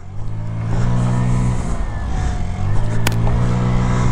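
A 2022 Scootstar 50cc scooter engine revs hard during a wheelie attempt, its buzzy steady drone rising and falling close by, with a brief sharp click near the end.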